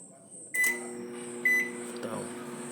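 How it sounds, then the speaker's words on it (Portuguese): A repaired MEF41 microwave oven is switched on for testing, with a couple of short beeps and clicks followed by a quiet, steady running hum. "Micro-ondas MEF41 finalizado. Agora vamos ligar ele para fazer o teste."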